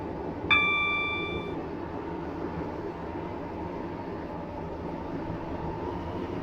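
A Class 345 train runs in the Stepford County Railway video game: a short bright electronic chime over a steady low rolling hum of the moving train, continuous and fairly quiet, with no talk.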